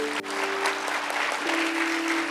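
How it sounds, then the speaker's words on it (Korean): A congregation applauds at a church youth worship service, a dense, even wash of clapping under a steady low tone, with no talk. "권사님들께도 박수 부탁드립니다"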